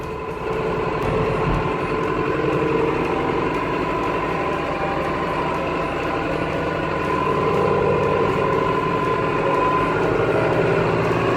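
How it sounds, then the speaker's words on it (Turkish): A new Tümosan 8095 tractor engine drones steadily and loudly at close range, with a faint high turbo whine running over the low rumble throughout. "Arkadaşlar bu traktör sırf o turbo sesinden dolayı alınır."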